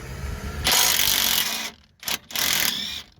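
Pneumatic impact wrench driving a nut off a Volkswagen Golf anti-roll bar linkage, loud close rattling bursts: one long run, a brief stop, then two shorter hammering bursts.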